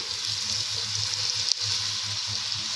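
Washed cauliflower goes into a pan of onions and spices frying in oil for aloo gobi salan, giving a steady, close sizzle with a brief clatter midway and no voices.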